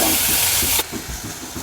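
Large tomato sautéing in a pan, a loud bright hiss of steam that suddenly drops to a quieter sizzle midway, with low rhythmic stirring thumps underneath and no speech.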